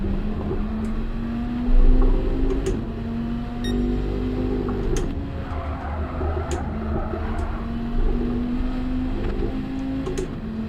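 Steady hum of GT3 race car engines from Gran Turismo 7 on the Yas Marina circuit, a continuous droning tone with a brief louder swell early on, no talking over it.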